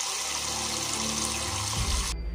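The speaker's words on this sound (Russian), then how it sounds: "Она вот у нас сейчас из крана течет." Water runs from a kitchen tap in a steady, even splash, fairly loud and close, then stops abruptly near the end, leaving a brief quiet hum.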